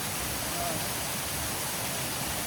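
Fern Falls waterfall in the Sipsey Wilderness, Alabama, swollen after recent heavy rain, gives a steady, dense broadband rush heard from close by, with no breaks or changes across the whole stretch.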